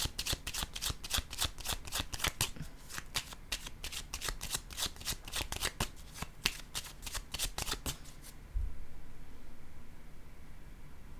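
Tarot cards are riffled and shuffled up close in a rapid, even run of crisp flutters for about eight seconds, then stop, leaving a soft hiss.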